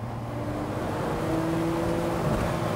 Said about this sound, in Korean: 지금 이게 이제 엔진 사운드거든.